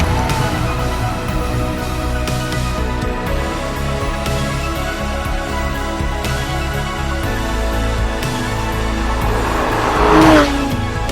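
A Porsche GT3 RS 4.0 drives along Scottish roads, its engine note steady and loud throughout, with a brief surge of revs near the end.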